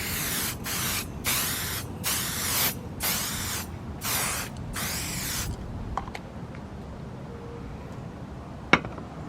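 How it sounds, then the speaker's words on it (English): A can of quilt basting spray hisses onto the wrong side of fabric in six short bursts, steady and close, each under a second with brief pauses between, followed by quiet handling and a sharp tap. "I'm going to spray it now on the wrong side of the fabric with my basting spray."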